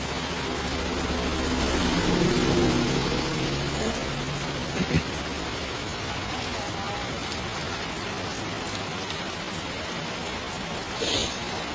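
Heavy rain pours down in Phnom Penh as a dense, steady hiss that fills the scene, with a brief thud or two partway through.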